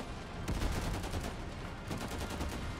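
Rapid gunfire crackles in the video game Last Train Home as two dense bursts of quick, loud shots run together into a continuous rattle.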